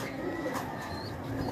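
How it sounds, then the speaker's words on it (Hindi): A female Sialkoti pigeon on a rooftop loft gives soft, low cooing at close range, steady against a noisy background with no talk. "ये ला जी सलकोटी 79 वाला कबूतर है जी। ये फीमेल है"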